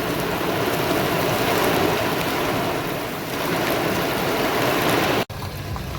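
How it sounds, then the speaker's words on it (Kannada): Heavy rain pours at Raja's Seat viewpoint in Madikeri, Kodagu, a loud, steady, dense hiss with no gaps that drops out for an instant near the end. "ಭರ್ಜರಿ ಮಳೆ ಆಗ್ತಿದೆ ರಾಜ್ ಸೀಟ್ ಹತ್ರ"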